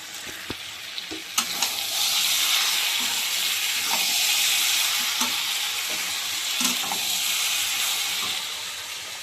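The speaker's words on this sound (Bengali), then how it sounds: "এদিকে এঁচোড় চিংড়ি বসিয়ে দিয়েছি।" Green jackfruit and prawns sauté in a pan with a loud, continuous hissing sizzle, and occasional light scrapes and taps from stirring.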